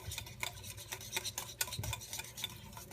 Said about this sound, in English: Let's whisk it around.